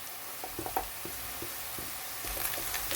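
Coriander seeds frying in a pan with garlic and onion give a soft, steady sizzle with scattered small pops and crackles, fairly quiet and close, with no talking.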